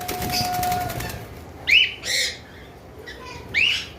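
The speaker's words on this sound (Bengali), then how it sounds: "এখানে আরেকটা পেয়ার অ্যালবিনো রয়েছে। এই দুইটাও ব্রিডিং পেয়ার। ভয়ে দাপড়াদাপড়ি করতেছে।" An albino breeding pair of birds flapping in fear inside a cage, with several short bursts of wingbeats and chirps close by, a thin tonal whistle early on, and no talking.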